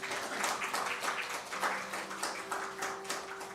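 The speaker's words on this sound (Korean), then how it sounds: "아유 박수 보내주십시오." Applause from a church congregation rises as a steady, moderate patter of many hands clapping, sustained for several seconds without a break.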